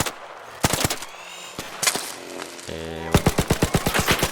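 Small pistol firing in the video game ARC Raiders, a rapid run of sharp, loud shots near the end after scattered earlier bursts, with someone talking briefly over the gameplay.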